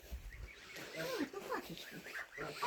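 Pigs grunting softly in a farmyard at night near geese and chickens, a few low snorts and grunts mixed with quiet voices talking nearby, faint and close.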